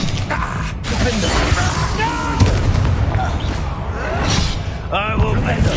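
A Confringo fire spell from Hogwarts Legacy bursts with a booming, crackling blast amid a busy spell-duel soundscape, with a voice talking loudly throughout.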